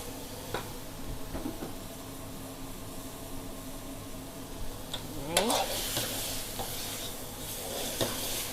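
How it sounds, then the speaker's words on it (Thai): Shrimp and bamboo shoots stir-fried in a pan. Quiet scraping stirs at first, then a loud burst of sizzling as the food hits the hot oil, settling into a steady hiss. "แอนจะเอากุ้งมาผัดกับหน่อไม้นะ"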